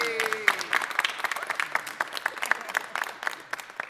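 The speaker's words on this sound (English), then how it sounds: "you deserve a round of applause for that" A small group applauds at a mayor's press conference, a moderate patter of hands clapping at close range, with individual claps distinct and a brief voice at the start.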